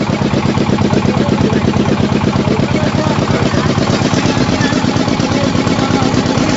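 Heavy, steady engine drone from a trawler carrying passengers and motorcycles across the water from Hatiya toward Nijhum Dwip island, loud and close, rumbling on unbroken without talk.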